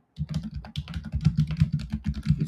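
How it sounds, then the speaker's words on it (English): Rapid clattering keystrokes on a computer keyboard, close and continuous with irregular rhythm, each key press a sharp click, with no voices. "This keyboard is terrible for me."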